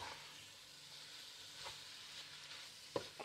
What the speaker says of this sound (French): Je mélange tout bien.